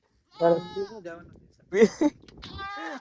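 Goats grazing out in open fields, bleating in two loud, wavering bursts close by with a quieter trailing bleat, people faintly present nearby.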